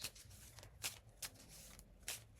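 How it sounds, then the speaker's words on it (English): Faint riffling of a deck of homemade reading cards being shuffled, several quick papery bursts at irregular intervals against a quiet background. "let's see if we can shuffle the card"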